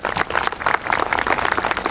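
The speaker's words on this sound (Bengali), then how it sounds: "প্যারেন্টসদের জন্য একটা জোরে হাততালি" Applause for parents at a karate training camp event, a dense continuous burst of clapping filling the short stretch at steady volume.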